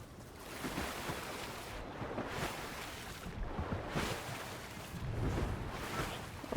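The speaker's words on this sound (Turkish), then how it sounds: "Şimdi arkadaşlar denizde yüzeceğiz" Sea swimming in the Fortnite video game gives soft, surging water and wave-like wash that rises and falls in a slow rhythm, quiet and without talk.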